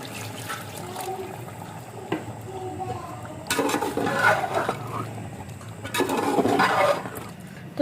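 Water poured into a pot of beef korma cooking on the stove, a wet splashing and bubbling pour in two louder bursts over a low steady background, with no talk over it.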